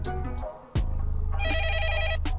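Telephone ringback heard while placing an outgoing call: loud electronic ringing tones with a warbling, buzzy texture, close and steady, following a brief lower tone, no talking.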